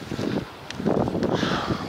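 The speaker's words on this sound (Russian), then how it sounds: "Ну, ветер, кстати, какой." Gusty wind blows outdoors near a spring apiary, buffeting the microphone with rough, uneven low rumbles that rise and fall through the short clip.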